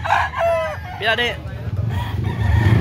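A rooster crows loudly and close by in short bursts with some clucking, while someone speaks briefly over a low steady background rumble.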